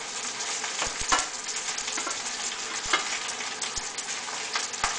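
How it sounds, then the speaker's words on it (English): Hamburger patties sizzle steadily in a non-stick pan, a dense continuous crackle with a few sharp clicks and scrapes as plastic utensils turn them over, close and alone with no talk. "I'm turning over my hamburgers."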